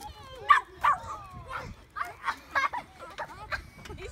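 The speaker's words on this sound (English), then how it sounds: "You found the puppy." A puppy yips, whimpers and gives small barks in a run of short, high, tonal cries, close by, mixed with children's voices talking around it.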